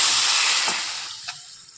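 A little water hits a hot cooking pan of sautéed vegetable curry with sandge, producing a sharp hiss that fades steadily over a couple of seconds, with a brief clink near the end.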